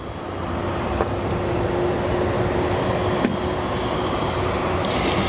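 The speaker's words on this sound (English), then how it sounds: "Our next departure, American Airlines Flight 2918, a 737-800. We'll go over to it departing." An American Airlines Boeing 737-800 departs O'Hare with a steady, broad engine roar heard from a distance, holding level throughout with no talk.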